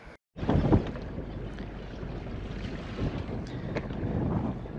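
Strong wind of about 15 knots roars steadily past the microphone aboard a sailboat in St. George's Bay, Newfoundland, a loud continuous rumbling buffet after a brief cut at the start.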